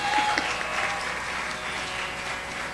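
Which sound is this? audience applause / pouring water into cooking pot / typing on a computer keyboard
audience applause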